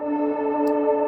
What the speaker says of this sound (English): I'm just gonna use this like massive reverb for just to make soundscapes